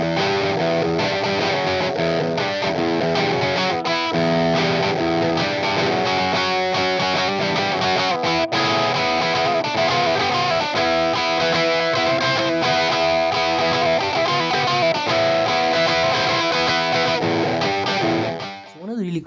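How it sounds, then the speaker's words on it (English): Electric guitar driven through a DIY high-voltage neon-lamp distortion pedal, a loud, dense, continuously fuzzy tone with sustained chords throughout, fading briefly at the very end. "All of that distortion pretty much is from the actual neon lamp."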